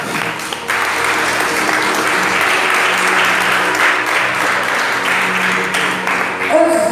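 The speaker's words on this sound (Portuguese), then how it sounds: "Podemos assentar e exaltar o Rei Jesus com as palmas." A church congregation applauds steadily and loudly for several seconds, a dense wash of clapping that holds even throughout, with a few voices underneath.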